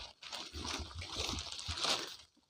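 Small stream running through a forest, trickling and sloshing steadily at close range with soft splashes, fairly quiet, briefly swelling near the end.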